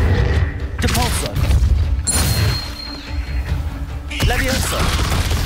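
The Depulso spell goes off in the Hogwarts Legacy video game as loud booming, thudding blasts and whooshing magical effects, with repeated bursts over a dense, continuous game soundscape.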